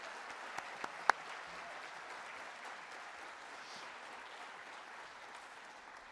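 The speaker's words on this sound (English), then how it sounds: "Let's give another round of applause to the NVC Chamber Singers" Audience applause at an Alamo Colleges District convocation for the NVC Chamber Singers: a steady, broad wash of clapping from a large hall crowd, with a few sharp nearby claps standing out early on, holding level throughout.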